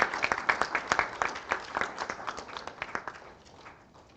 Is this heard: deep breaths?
no